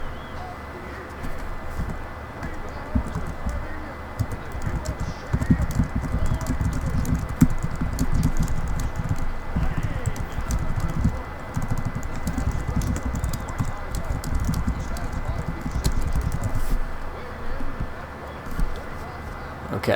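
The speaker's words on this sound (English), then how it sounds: "sorry for the typing in the microphone" Rapid typing on a computer keyboard close to the microphone clatters steadily under a continuous background, with a dove cooing faintly.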